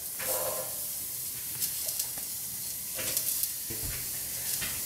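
Onions, garlic and chilies sizzle in a hot pan for salsa, a steady close frying hiss with a few sharper crackles and stirring scrapes throughout.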